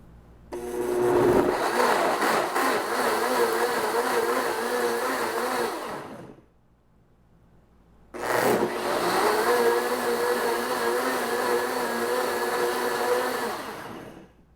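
Loud, close blender whirring through roasted pepper salsa in two long runs of about six seconds each, split by a short silent pause, the motor pitch wavering as ingredients churn.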